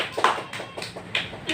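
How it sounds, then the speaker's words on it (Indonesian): Brief round of clapping from a classroom of students during a prayer lesson, a handful of loose, uneven claps in quick succession, close and moderately soft, with no talking over it. "Tepuk tangan."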